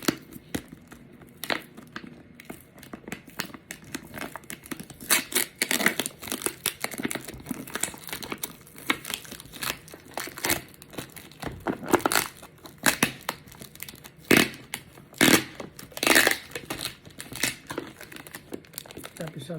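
Packing tape is torn and plastic wrapping crinkles while a parcel sent by post from Japan is unboxed, with repeated loud crackling and ripping bursts in an irregular rhythm, close up, alongside intermittent talking.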